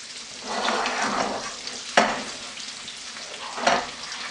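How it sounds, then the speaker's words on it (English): A stick of butter, about 125 grams, melting and sizzling in a pan for butter chicken: a steady close crackling sizzle with two sharp clinks from a utensil, no speech. "While the butter is melting"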